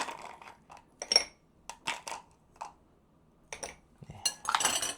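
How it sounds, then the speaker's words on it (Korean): Ice cubes dropped into a glass to fill it nearly full for a homemade lemon cola drink, heard as several separate bursts of clinking and rattling, close and fairly soft, with short pauses between them. "이 잔에 얼음을 가득 넣어줍니다."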